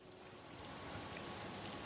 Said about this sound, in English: Although it's still raining.